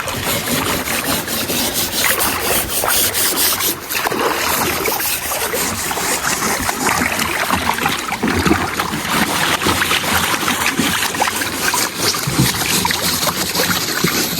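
Steady, rasping strokes of steel wool scrubbing a boat hull repeat continuously, close to the microphone, with faint water sounds around them.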